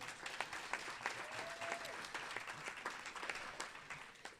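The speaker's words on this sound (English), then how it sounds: "and you can give that a round of applause" Faint, steady applause from an audience at an arts and business council gathering in a Nashville museum, continuous scattered clapping heard from a distance without speech.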